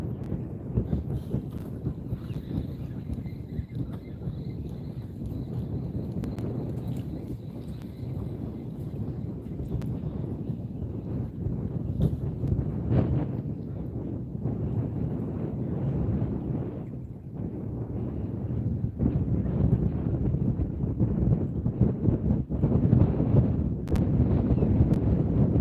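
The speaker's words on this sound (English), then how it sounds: "Let me know how this wind sounds." Gusty wind buffets a microphone at a pier, a continuous low rumbling roar that swells and eases throughout, growing stronger toward the end, with no clear talk over it.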